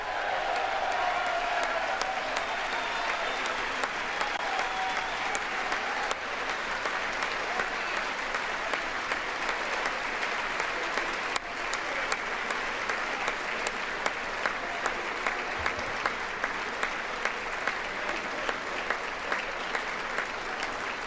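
Lawmakers at a joint session of Congress during the State of the Union give sustained applause, a dense, steady wash of many hands clapping that fills the chamber for the whole stretch, with sharper individual claps standing out near the end.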